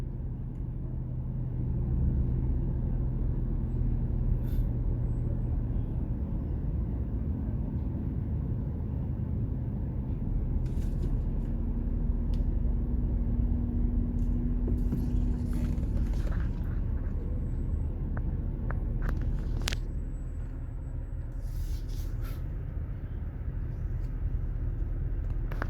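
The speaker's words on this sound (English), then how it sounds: "vehicles will be running at high speed, and they'll be horning one another" Night road traffic in The Gambia: a steady low rumble of passing vehicles fills the whole stretch, with a few faint higher clanks and bursts near the middle and end, no voices.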